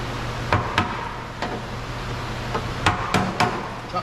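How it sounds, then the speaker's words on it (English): Sharp hammer-like knocks ring out irregularly, about seven strikes close by, while a piece is chopped off during removal of a 2016 Toyota Corolla front bumper and fender, over a steady low hum. "Chop that piece off."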